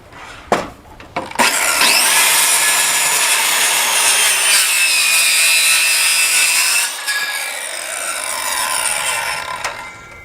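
A saw cuts through wood for stairs, a few sharp knocks followed by a loud sustained rasping cut that eases off near the end and then continues more quietly.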